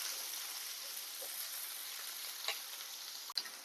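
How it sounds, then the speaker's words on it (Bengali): Eggplant pieces sizzle in a hot pan for a mixed vegetable dish, a dense, steady close-up fizz with a couple of brief clinks near the end, no one talking. "বেগুনটাকে একটু ভেজে নেব।"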